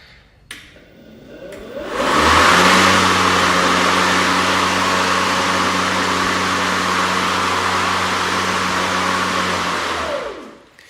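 Ryobi cordless push lawn mower, battery-powered, spinning up after a click, holding a steady whirring hum with a faint tonal whine for several seconds, then winding down.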